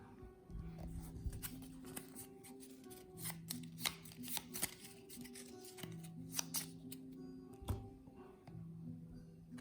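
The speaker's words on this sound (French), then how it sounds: "On est arrivé au bout de la pioche, donc on va remélanger." Cards from a board game draw pile are reshuffled with a steady run of quick riffling bursts and soft slaps, fairly close and loud, with no talk over it.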